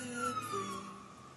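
Emergency vehicle sirens near a crime scene at UCLA, a wailing tone sliding slowly downward, moderately distant and fairly faint over low background rumble.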